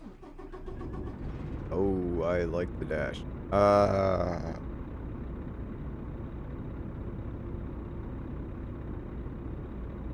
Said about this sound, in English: let's start it up and see how it sounds